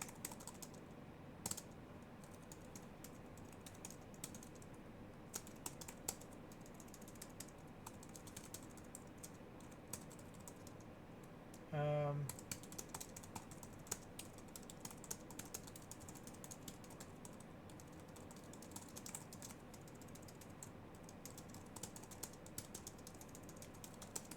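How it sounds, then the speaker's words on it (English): Someone types fast on a computer keyboard, a long run of quiet, rapid key clicks that continues throughout, with one brief louder mechanical rattle partway through. "I actually did some fast typing for once."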